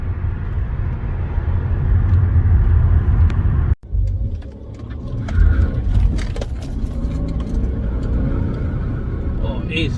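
A 2012-style W212 Mercedes E350 runs in sport mode with a low, steady engine drone and road rumble inside the cabin, briefly interrupted by a sharp cut, then continuing under a driver's voice.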